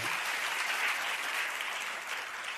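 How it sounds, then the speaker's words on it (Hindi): Steady applause from a seated audience at a religious discourse, dense clapping that holds at an even level throughout without a break. "आप लोगों ने ताली बजा दिया"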